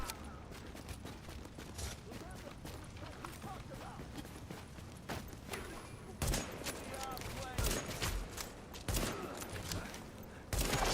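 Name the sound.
gunfire shooting headshots in a survival video game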